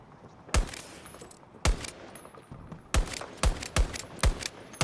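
DM7 rifle gunfire in Battlefield 2042, sharp loud single shots spaced irregularly, two isolated cracks followed by a quicker cluster of five, over quiet battlefield ambience with no talk.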